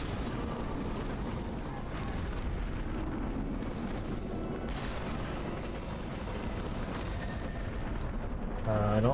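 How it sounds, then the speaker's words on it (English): Cannon fire in the PS3 game Mask of Folklore, a dense, continuous rumbling barrage of booming blasts with a sharper burst near the end, loud and steady with no talk over it. "What about cannon fire?"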